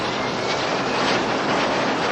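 A Sea Harrier jump jet roars past at an air show, a dense, loud, steady broadband engine blast filling the whole short stretch without any voices.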